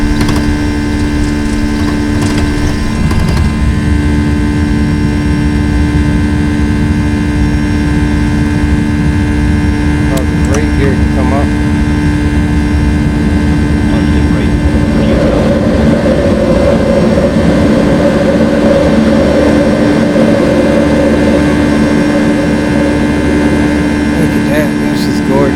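An MD-80 airliner's jet engines roar steadily at takeoff rotation in the X-Plane 11 flight simulator, a loud constant drone with layered steady tones and a rising whine partway through, no voices.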